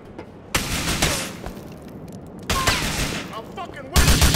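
Bursts of gunfire in Grand Theft Auto 4 erupt in three loud clusters, with rapid shots separated by quieter gaps filled with shouting voices.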